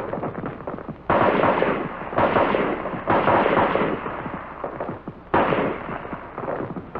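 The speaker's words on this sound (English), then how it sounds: "For your rapid fire zero, you fire 3 groups of 3 rounds each." An M-14 rifle fired in rapid strings on a range, several loud sharp bursts of shots in quick succession separated by short pauses, heard alone without talk.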